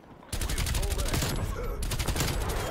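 Rapid automatic gunfire from a Call of Duty match, dense and loud after a brief quiet start, a continuous volley of shots with the rattle of several weapons overlapping.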